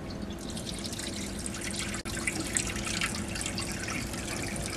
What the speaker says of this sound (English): To ensure you have water flow, turn on the pump.